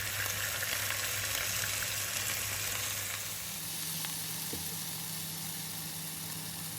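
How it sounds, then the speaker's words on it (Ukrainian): Red wine poured over beef cheeks sizzling in a pan, a steady loud frying hiss throughout that eases slightly partway as the liquid hits, with no talking. "Відкриваємо червоне вино та додаємо до м'яса."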